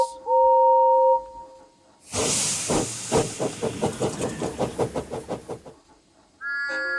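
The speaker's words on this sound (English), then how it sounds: "He puffed into the yards where Douglas was." A cartoon steam locomotive tank engine lets out a loud burst of hissing steam, then chuffs in a quick, steady run of about a dozen puffs that fade away, followed by a brief whistle.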